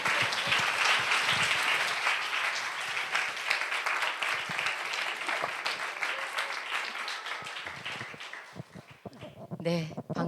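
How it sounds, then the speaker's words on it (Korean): Congregation at a Friday revival gathering in a church applauds loudly to welcome a speaker, with dense sustained clapping and voices mixed in, thinning near the end. "큰 박수로 환영해 주시면 감사하겠습니다"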